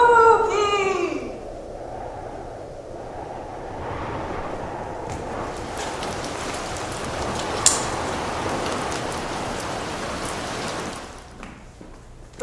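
In a school theatre staging of Snow White, a rain sound effect rises into a steady, fairly loud hiss of falling drops that keeps going for several seconds and then fades out. Brief voices and shrieks come just before it begins.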